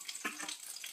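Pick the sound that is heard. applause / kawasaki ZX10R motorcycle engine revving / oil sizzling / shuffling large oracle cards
oil sizzling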